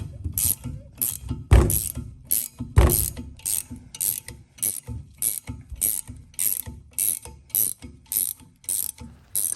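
A pilot bearing puller tool is tightened to draw a bearing out, making a steady run of sharp ratchet clicks in regular rhythm with a couple of heavier mechanical clunks, close and fairly loud with no talk.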